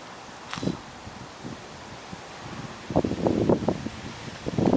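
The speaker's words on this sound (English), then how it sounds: "the wind is blowing," Outdoor wind buffets around a Red-tailed Hawk nest site at Cornell, with rustling leaves and gusty microphone rumble swelling and fading, strongest in bursts toward the end.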